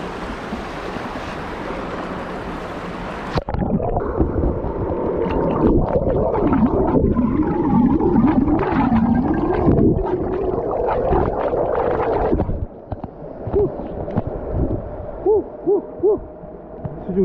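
Water is recorded underwater: a dense, muffled rushing with gurgling, warbling tones and whooping swells. The sound cuts in abruptly, then thins to a quieter bubbling with short rhythmic pulses toward the end. No voices are heard.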